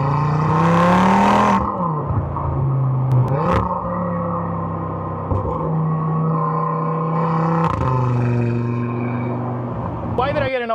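An Audi RS3 fitted with an ECS valved exhaust pulls hard at full throttle in Florida traffic, its engine rising in pitch through several gears with shift dips between; the engine note is loud and close.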